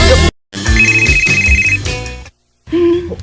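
A phone rings loudly with an incoming call, playing a melodic electronic ringtone in bursts separated by short silences.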